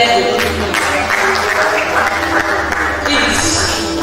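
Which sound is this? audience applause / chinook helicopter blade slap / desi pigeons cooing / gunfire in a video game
audience applause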